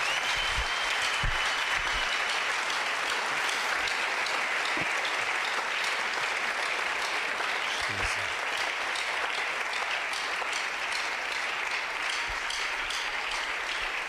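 A church congregation at a French and Swahili sermon breaks into loud, sustained applause, a dense continuous clatter of many hands filling the room, with a few faint voices and low thumps beneath it.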